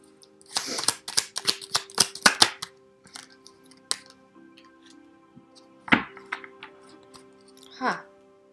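Tarot cards riffled and snapped in a quick burst of crisp slaps, then a few sharper single card flicks and draws after a pause, close and moderately loud with faint talk in the background.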